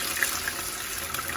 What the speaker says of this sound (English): At this moment we put in a bit of water will do.